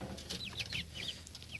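Hens and a red rooster clucking softly in a backyard coop, with short chirpy calls repeating at a moderate distance over a steady low hum.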